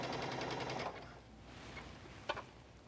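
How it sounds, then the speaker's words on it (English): A sewing machine with a standard presser foot runs a zigzag stitch across fabric for a tank top, giving a fast rapid chatter that stops after about a second, followed by quieter handling and a small knock. "I'm just using a standard presser foot and I'm just doing a zigzag"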